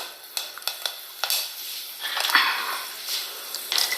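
Fenugreek seeds crackle and sizzle in hot oil in a pan, with light scattered pops and clicks of a utensil stirring close by.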